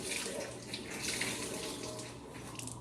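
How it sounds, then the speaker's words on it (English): Hot water runs from a kitchen tap over a dish rag in a steady, close hiss and splash that holds at an even level with slight fluctuations, with no talking over it. "grab a dish rag, run some hot water over that dish rag"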